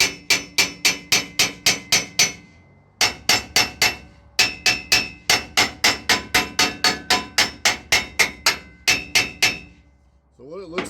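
Rapid bursts of hammer blows clang against rusted metal of an offroad wrecker, several quick volleys of even, ringing strikes separated by short pauses, with a brief voice at the very end.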